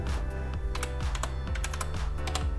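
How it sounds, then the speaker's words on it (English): Steady typing on a computer keyboard, close and clear, with a quick run of key clicks and taps in an even rhythm and no voices. "Now type your placement name."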